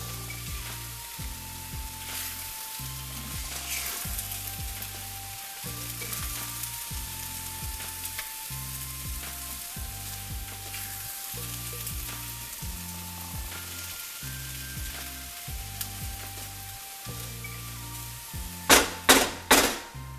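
Spiced tempeh taco filling is stirred in a pan, with a soft sizzle and regular scraping strokes repeating throughout, then a few sharp, louder knocks near the end.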